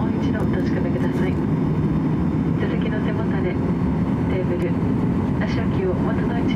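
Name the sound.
airliner engines at takeoff, JTA flight Miyako to Naha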